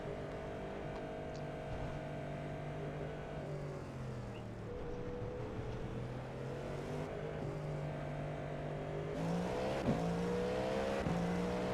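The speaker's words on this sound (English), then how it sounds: "I guess we'll just go out and leave the pits, do a practice pit lane exit" Cadillac V-Series.R LMDh prototype race car in the iRacing simulator pulling out of the Daytona pits, its engine droning steadily with tonal shifts as it works up through the gears, louder near the end.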